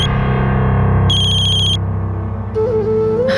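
A loud electronic ringtone plays in repeating tonal bursts with a buzzy, distorted edge, and no talking.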